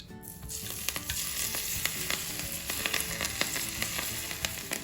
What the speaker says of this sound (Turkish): Şimdi ısınmış olan yağımı ekliyorum